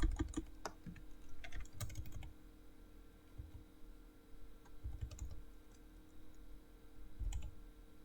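Someone types PHP code on a computer keyboard in bursts of quick key clicks between quiet pauses. The clicking is close and fairly soft against a low hum, with no talking.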